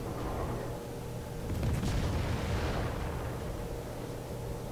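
Heavy naval gunfire from the Smolensk, a cruiser in World of Warships, rumbling with booming salvos that swell in the middle over a steady battle roar, with no talk.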